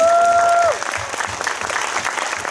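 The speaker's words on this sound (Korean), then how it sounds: "여러분 조민 작가님께 큰 박수 한번" Audience applause at a film open talk event in a cinema, a steady wash of many hands clapping after a brief tonal sound at the start, loud and continuous.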